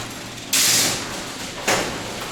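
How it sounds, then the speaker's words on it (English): A home garage door being opened, giving two rough mechanical surges of rattling and sliding noise, one strong and one shorter, heard close with no talk. "Gotta fix my garage door."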